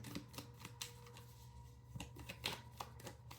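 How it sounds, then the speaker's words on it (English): Tarot cards being shuffled by hand produce a string of soft, irregular riffling taps and slaps, fairly close, alone without talk. "let's just keep shuffling"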